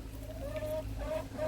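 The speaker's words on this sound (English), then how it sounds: "So we got 5 chickens." Backyard chickens cluck softly nearby in a garden, a few short murmuring calls over a steady low background rumble.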